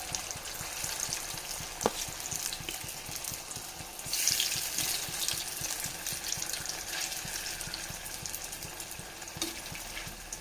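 Coated potato pieces sizzle and crackle steadily in hot oil in a pan, a dense continuous frying hiss with a brief louder spatter partway through, no voices.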